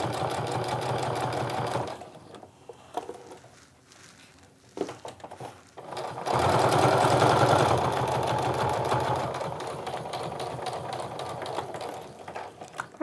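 A sewing machine stitches through quilted fat-eighth fabric for a wristlet, running in fast mechanical bursts close by. It eases off into softer, slower stitching and handling, then speeds up again into a steady loud run.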